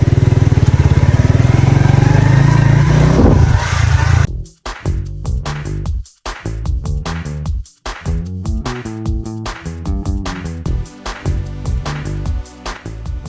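A motorcycle ride in the rain toward Cumilla roars loudly up close for about four seconds, with engine and rushing wind. Then it cuts off abruptly, and rhythmic tonal music follows.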